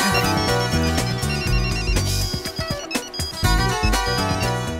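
A mobile phone ringtone plays loud and continuous, a bright melodic tune with steady beats, in a noisy setting.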